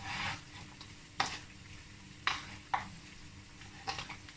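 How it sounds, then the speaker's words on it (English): Chicken marinade with salt is mixed by hand in a bowl, quiet wet squelching and rubbing with several sharper slaps and clicks spaced about a second apart. "So now I need to mix it well with hand,"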